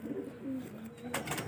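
Junsare pigeons coo softly in a low, throaty murmur, a few short rolling calls close by, ending with some rustling.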